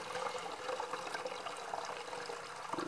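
Water drawn from a fish tank pours steadily into a gallon plastic milk jug for compost tea, a continuous close trickling and splashing fill with no talking.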